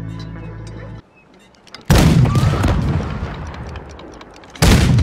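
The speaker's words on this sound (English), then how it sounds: "Can you sink a huge ship with this cannon in Red Dead Redemption 2?" A huge cannon in Red Dead Redemption 2 fires at a ship, heavy loud booms that come in two bursts, each followed by a rumbling tail, after a quieter stretch at the start.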